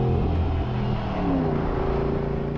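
A 2023 Land Rover Defender 110's V8 engine revs loud and near, a thick low growl whose pitch climbs and settles in smooth sweeps, with no talking.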